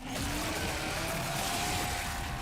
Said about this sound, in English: This chainsaw has a 14-inch blade with that signature meaty yet intimate sound, and when it revs